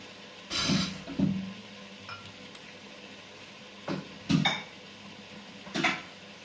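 Metal pot lid clattering onto a cooking pan of bitter melon (ampalaya) with longganisa and egg, several separate clinks and clanks spread out with pauses between, fairly quiet in a home kitchen, no talking.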